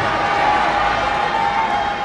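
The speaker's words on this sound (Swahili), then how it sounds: "Siwezi kuongea, watu wanashangilia." A crowd cheers during a public religious debate, a steady dense roar of voices with a faint sustained tone running through it, loud and continuous.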